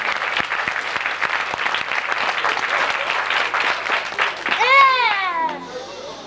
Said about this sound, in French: on peut les applaudir parce que vraiment c'est bien ce qu'ils font